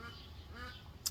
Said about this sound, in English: you might hear my ducks in the background